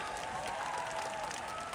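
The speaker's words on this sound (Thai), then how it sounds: "เก่งมากปรบมือให้หน่อยได้ไหมครับ" Dense, steady applause from a live audience at a cooking game-show event in Bangkok, many hands clapping together close by and evenly throughout, with no voices standing out.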